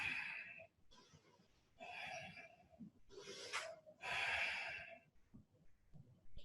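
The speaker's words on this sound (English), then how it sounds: "Taking 3 breaths." Slow, deep breaths drawn in and released audibly through a yoga pose with the elbows lifted, several long airy exhales close to the microphone with brief quiet gaps between them.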